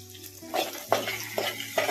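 Onion and peanuts are stirred in a hot pan with a utensil, giving about four rhythmic scraping strokes over a light sizzle, close and fairly quiet.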